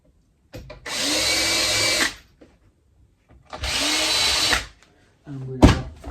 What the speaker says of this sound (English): here we are, drilling the holes in the right place this time